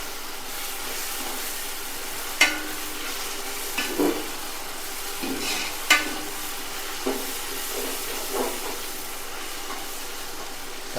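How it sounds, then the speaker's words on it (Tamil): Tomatoes sauté in a pan for chicken biryani, a low continuous sizzle broken every second or two by scraping and stirring knocks, close up and with no one talking. "நம்ம தக்காளி சேர்த்து ஒரு 4-5 நிமிஷம் நல்லா ஃபுல்லாக வதங்கிடுச்சு."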